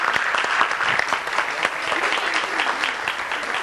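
Dense, steady applause from a television studio audience on a Turkish health talk show, continuous close clapping throughout with no break.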